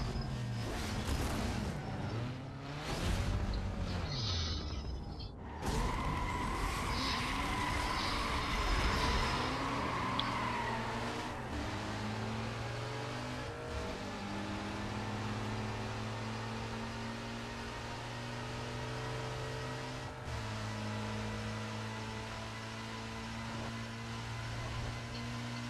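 Race car engines in Need for Speed Most Wanted hum and whine steadily throughout, their pitch climbing and falling with each shift, the sound continuous and moderately loud with no talk.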